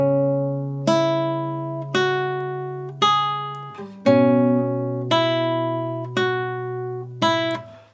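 Electric guitar in standard tuning picks out the opening line of the Assassin's Creed Rogue main theme, eight clean sustained notes struck one about each second, each ringing and decaying, played alone and close.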